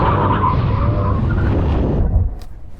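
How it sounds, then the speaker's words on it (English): Lamborghini Aventador braking hard in an emergency stop at a drag race finish line, tyres skidding and squealing loudly for about two seconds with engine rumble beneath, then cutting off abruptly. "When we reach the line, full emergency stop."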